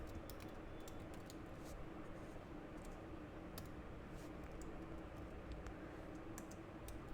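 Faint, quick clicks of typing on a computer keyboard tap irregularly over a low, steady background hum.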